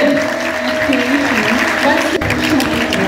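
Steady applause from school students fills the clip at a school event, with a voice talking and some tonal music or hum running underneath.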